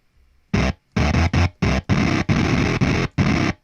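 Short plucked notes pushed through a solo thrash guitar amp effect with heavy distortion, about eight choppy bursts in an uneven rhythm, sounding like a harsh, guitar-like crunch.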